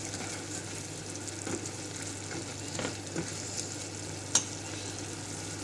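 Chicken liver mixture with salt is stirred in a hot pan, giving a steady close sizzle with a few sharp scrapes and clicks of the utensil. No one speaks.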